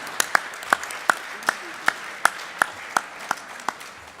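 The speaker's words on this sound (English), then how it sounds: "Let's give each other an applause of gratitude." A congregation at a Hanukkah celebration claps in a steady, evenly spaced rhythm, each sharp clap standing out over a quiet room, roughly a dozen beats in a few seconds.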